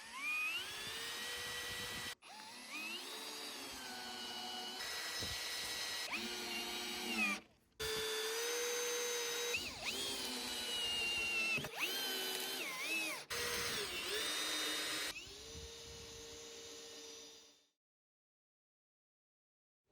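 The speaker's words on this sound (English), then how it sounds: "To screw these in, we first need to drill first to make sure that we don't split the rafter" Power drill boring pilot holes into wooden roof rafters before structural screws go in, a whining motor in repeated bursts of several seconds each that rise and dip in pitch as the bit bites, separated by short pauses, close and loud.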